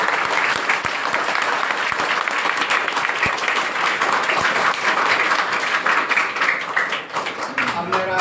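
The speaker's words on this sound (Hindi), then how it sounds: "एक बार जोरदार तालियों।" A school honour ceremony audience breaks into loud, sustained applause, dense clapping filling the room steadily for several seconds with a slight dip near the end.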